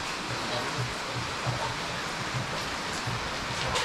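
Irrigation water runs steadily outdoors on a village farm, a continuous broadband rush with faint low gurgling pulses throughout.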